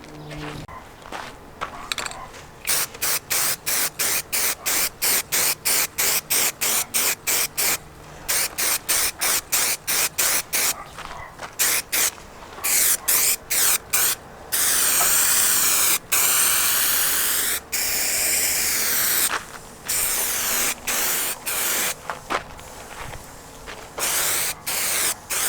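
Spray paint applied to a car body part such as a side skirt on a Honda Integra, with many short hissing bursts followed by longer sustained sprays, loud and close.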